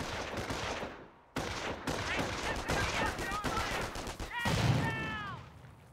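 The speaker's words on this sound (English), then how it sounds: "Let's throw a grenade to destroy the machine guns." Grenade blasts and machine-gun fire from the World War II strategy game Company of Heroes, a loud, dense stretch of overlapping shots and bursts that breaks off briefly and then resumes, with a sharp whistling sweep near the end.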